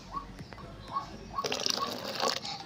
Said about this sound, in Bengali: আমি এখানে আরেকটু জল মেশাচ্ছি